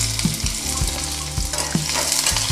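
Garlic and onion sizzle steadily in hot oil over a low gas flame, with continuous crackling frying and occasional low clunks of a utensil stirring in the pan.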